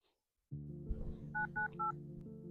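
A short sequence of telephone keypad dialing tones, three distinct beeps in a row, sounds over a low steady hum from a phone line before a call is placed.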